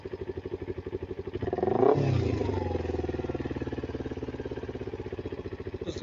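A motorcycle fitted with a budget aftermarket exhaust idles at close range with a steady, rapid pulsing putter, briefly swelling once before settling back.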